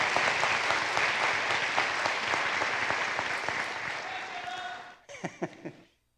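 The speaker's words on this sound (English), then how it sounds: "I'm going to ask everybody to join me in giving a round of applause to this world-class team." Sustained applause from a large commencement crowd greeting a team, dense and steady before stopping abruptly, followed by a few scattered claps.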